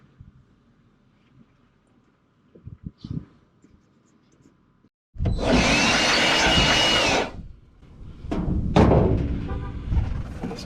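Compressed air blasts onto a 1990s first-generation Dodge Ram W150 truck: faint clatter and knocks, then a loud steady hiss for about two seconds, a brief pause, and another strong burst of air.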